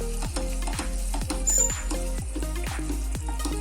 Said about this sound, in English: And I'm going to mix it.